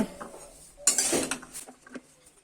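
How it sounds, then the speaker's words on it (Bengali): Vegetables are stirred in a metal pan, the spoon clinking and scraping against the pan in a few uneven knocks and rattles, close and moderately loud, then tapering off, with no one talking. "সবজিগুলো এখন ভালোভাবে নেড়ে দিব।"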